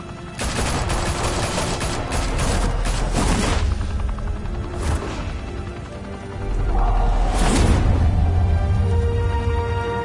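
Sustained gunfire in a Batman Telltale series video game, dense bursts of automatic shots and booming blasts rattling for about ten seconds, loud and close with no talk.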